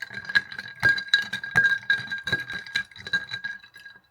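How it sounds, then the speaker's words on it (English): A spoon stirs a chai latte made with milk in a glass, producing a quick, ringing series of clinks and rattles against the glass, close up and with no talking. "Stir it."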